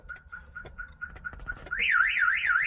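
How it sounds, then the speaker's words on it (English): A Viper car alarm on a 230SL sounds close by, set off by an attempt to start the car: first a run of steady evenly spaced beeps, then a loud rising-and-falling warbling siren. "the alarm went off just with the attempt to start it, or hot wire it"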